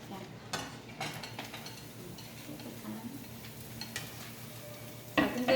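Japchae ingredients stir-fried one by one in a pan, with soft scraping and light clinks of a utensil, a few sharper taps and a louder clatter near the end, at low level.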